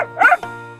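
A dog gives a single short bark-like yip, clear and close, followed by a steady low hum, in a read-aloud children's story about animals in hats.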